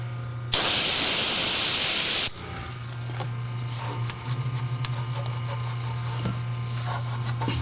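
A pressure washer spraying, a loud harsh hiss of water for about two seconds, then a quieter running hum with a steady low drone and faint rattles, no voices.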